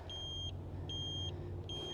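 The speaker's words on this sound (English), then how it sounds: "It does beep as well, so that way you know that it's on." A Hiboy X300 electric scooter's turn signal beeps in three evenly spaced, steady high-pitched tones, each about half a second long, sounding close over a low background hum.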